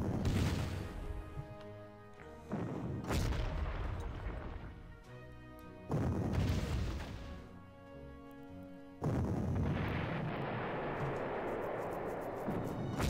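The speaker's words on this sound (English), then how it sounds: "That is some long-range artillery." Long-range artillery booms in the Panzer Corps World War II strategy game, Italy campaign: three heavy blasts a few seconds apart, each with a long rumbling decay, loud and close.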